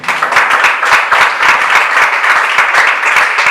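A church congregation claps loudly and steadily, close and continuous for the whole stretch, with a few rhythmic accents standing out within the applause.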